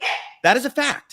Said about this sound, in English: sorry for my dog going crazy here